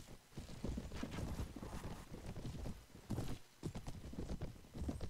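Horses belonging to a band of bandits in the Mount & Blade: Warband game, Prophesy of Pendor mod: steady overlapping clip-clop of hooves at a quick pace over a windy outdoor bed, with an occasional faint whinny and no talk.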